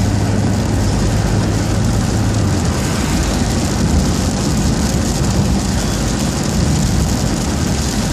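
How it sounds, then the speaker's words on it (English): Rain falling while a car drives along a road in Kingston, Jamaica: a steady, loud broadband hiss of rain and tire noise that blends with the engine's drone and never lets up. "It's raining now."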